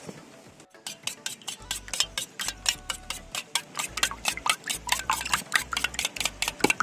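Eggs with a pinch of salt beaten briskly in a bowl for Mughlai paratha, a steady rapid run of close clicking taps from utensil on the bowl, no voices.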